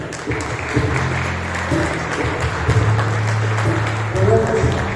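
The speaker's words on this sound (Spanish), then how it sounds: "Un aplauso" A church congregation applauds during a sermon service, clapping spread across the room beneath a prominent voice speaking and a low sustained tone running under the whole stretch.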